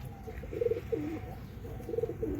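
A pigeon coos softly inside a coop, giving a few low, throaty warbling coos in two short bursts over a faint background hum.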